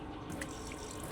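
Water runs steadily from a bathroom sink tap at a hillside farm in Santillana, a continuous, strong, close rushing flow with no talk over it.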